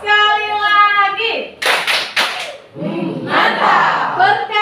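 A class of schoolchildren claps a short rhythmic pattern, three crisp claps close together, framed by a teacher's voice and children chanting around them.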